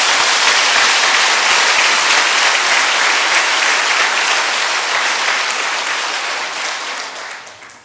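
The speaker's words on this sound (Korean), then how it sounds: "한 번 더 우리 격려의 박수 해드리겠습니다" A church congregation applauds loudly and steadily for several seconds, a dense wash of many hands clapping close by that tapers off toward the end.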